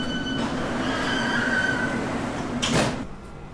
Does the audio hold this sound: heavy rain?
no